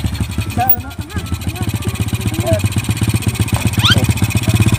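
An old, battered motorcycle engine runs close by with a steady, rapid low thumping idle that stays loud throughout, while voices talk briefly over it.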